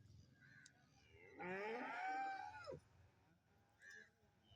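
Cattle lowing at a busy cattle market where cows and young bulls are sold, one long, loud moo rising in the middle over faint background bustle, with a few softer animal sounds around it.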